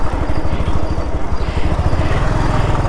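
A Bajaj Pulsar NS 200 motorcycle engine that won't take load while being pushed, fitted with a new radiator, sputters up close in a loud, rapid, uneven chugging rhythm that runs the whole time.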